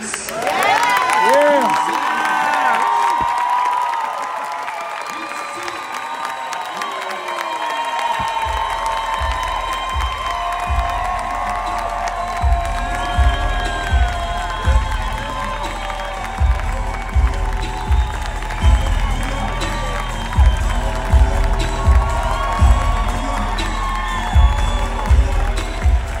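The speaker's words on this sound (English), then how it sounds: "you applaud so loud and so hard because you truly see in him greatness" A large audience at a TNV session applauds and cheers loudly and continuously, with whoops and shouts rising over steady clapping and punchy bursts of noise near the end.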